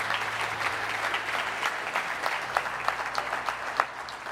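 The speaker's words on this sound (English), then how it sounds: "Give them a big round of applause." Audience applause at a live paradigm-shift event session, steady dense clapping filling the room throughout with a faint low hum beneath and a few sharper claps standing out near the end.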